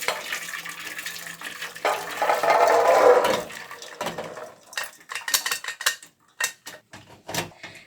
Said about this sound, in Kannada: ಹಾಗಾಗಿ ನಾನು ಈ ಕುಕ್ಕರಲ್ಲಿರೋಂಥ ನೀರನ್ನ ಬಸಿತಾ ಇದ್ದೀನಿ